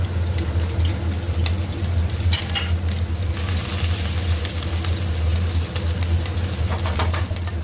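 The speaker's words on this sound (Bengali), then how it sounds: "তেলটা গরম হয়ে আসলে এখানে এলাচ, দারচিনি, তেজপাতা দিয়ে একটু নেড়ে নেব।" Whole spices like cardamom, cinnamon and bay leaf with grated ginger sizzle steadily in hot oil, a close, continuous frying hiss with occasional stirring scrapes and no talking.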